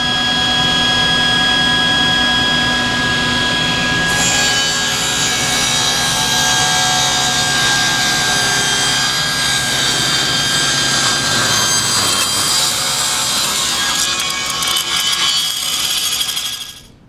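A table saw rips a test cut with a taper jig, a loud, steady high whine running without a break and deepening as the blade bites into the wood, then dying off at the end; no voices.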